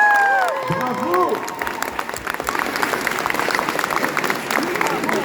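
Concert audience applause begins after a brief sustained vocal tone and rises into dense, crisp clapping from many hands with some cheering voices mixed in, continuing steadily to the end.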